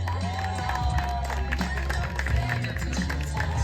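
Crowd applause and cheering at a Ukrainian 3x3 basketball championship game in Kyiv: dense, continuous clapping and crowd noise from spectators, steady and fairly loud throughout, with voices mixed into the din.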